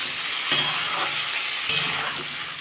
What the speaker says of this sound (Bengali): আমি ফুলকপিগুলো লাল লাল করে ভেজে নেব।